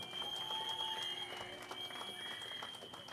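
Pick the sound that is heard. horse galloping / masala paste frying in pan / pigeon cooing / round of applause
round of applause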